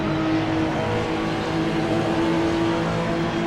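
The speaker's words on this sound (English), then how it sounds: "Yeah, I'm driving a Porsche." A Porsche race car in Assetto Corsa Competizione drones at a steady, sustained engine pitch, loud and close, with a constant harmonic tone and no talk over it.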